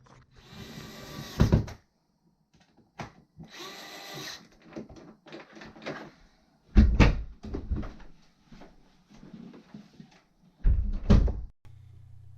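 A newly installed slab door is swung open and shut several times, each close landing as a loud thump with latch clicks and quieter handling noises in between, and no voices.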